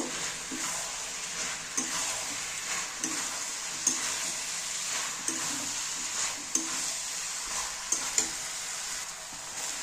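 Jackfruit pieces being stirred into fried spice masala, a soft continuous sizzle broken by regular scraping knocks of the spatula every second or so, with no one talking.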